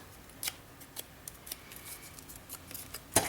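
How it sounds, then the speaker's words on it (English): Scissors snip through cardstock, a series of crisp, close cuts at an irregular pace with quiet pauses between them, ending in a louder final snip. "I'll just cut out some cardstock"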